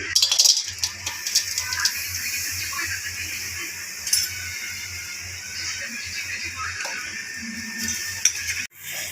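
Finely chopped jaggery tips into a small pot over a gas flame, with light clinks and a rattle of pieces against the metal above a steady burner hum, ending in a short abrupt thump.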